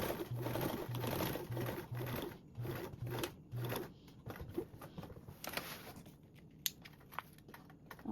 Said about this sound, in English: sew a little bit, back tack to reinforce that stitch, and then sew continuing over my previous stitches.